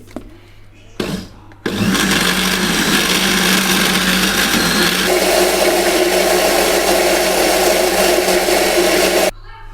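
A blender whirs loudly and steadily for about eight seconds, blending chicken pie batter with lactose-free parmesan, its pitch shifting partway through, after a short burst and a clatter at the start.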